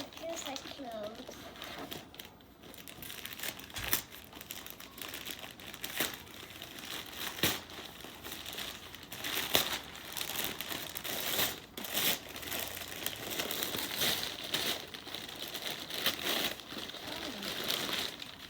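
Plastic packaging around a gift is unwrapped, giving soft, intermittent crinkles and rustles of varying intensity, fairly faint and close, with voices talking at times over the handling noise.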